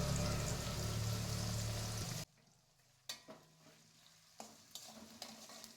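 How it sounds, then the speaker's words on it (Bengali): Salted onions frying in a pan for Bengali mutton kosha first give a loud, dense sizzle, which drops away abruptly. Quieter stretches of frying follow, punctuated by several sharp scraping stirs. "পেঁয়াজ ভাজা হচ্ছে, আমি নুন দিয়ে দিলাম।"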